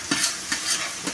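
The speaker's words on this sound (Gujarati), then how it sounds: "વઘાર ચાલુ છે" Spices tempering in hot oil for a green chickpea vegetable curry sizzle loudly and close, with rhythmic stirring strokes scraping the pan about every half second.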